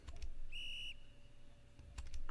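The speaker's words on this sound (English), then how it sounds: "she pulled out a small whistle" A small whistle blown once, a short clear shrill tone lasting under half a second, surrounded by faint clicking and tapping.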